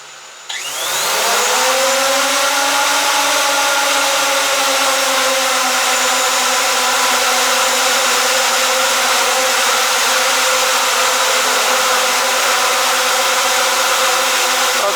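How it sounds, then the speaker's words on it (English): Hubsan Zino drone motors spin up from quiet into a loud, sustained high-pitched whine that holds steady and close for the whole stretch, with no voices over it. "I'll have to shout again over the noise of these motors"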